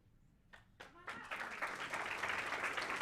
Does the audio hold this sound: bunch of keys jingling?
no